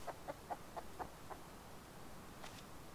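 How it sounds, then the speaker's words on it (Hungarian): Chicken clucking in the survival game Rust, a short run of six evenly spaced clucks near the start, then a couple of fainter calls after a pause, heard alone without talk. "De valami tyúk hangot hallottam, esküszöm."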